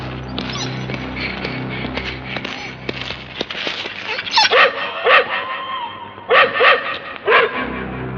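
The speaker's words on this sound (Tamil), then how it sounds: "நாய் குலைக்குது." A dog in a Tamil action film scene barks in a run of sharp, loud barks and yips during the second half, after a low, droning ambient stretch.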